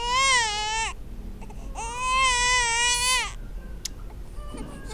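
An infant cries in two long, strained wails separated by a brief pause, close and loud, before things fall quiet, in a Vietnamese neighborhood comedy sketch.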